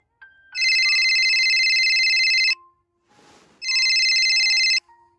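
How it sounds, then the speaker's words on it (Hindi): A telephone rings twice, a loud electronic trill with a short pause between rings, close by with a faint rustle in the gap. "उतनी देर में वेदा का फोन बजता है।"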